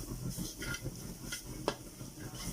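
Chili paste being stir-fried in a pan with a little oil over low heat: faint, soft scraping and stirring with a gentle sizzle underneath and one brief utensil clink, fairly quiet and steady.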